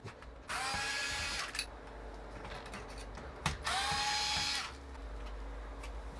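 Screws are driven out of a Pioneer FLX10 DJ controller with a power drill, two whirring bursts of about a second each, close and loud, separated by quiet handling clicks.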